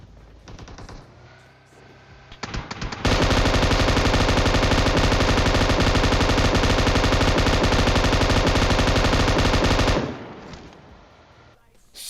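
An M249 light machine gun in the video game PUBG Mobile firing one long unbroken burst for about seven seconds, loud and rapid, preceded by a few scattered shots and background game noise, with no talking.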